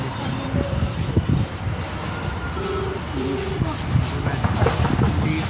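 A metro train passing near Chennai International Airport, a steady low rumble with wind-like noise throughout, under people talking nearby.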